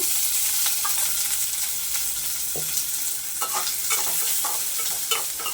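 Onions frying in a little added oil for a spicy chicken curry, a loud, close, continuous sizzle broken by scattered ladle scrapes and taps.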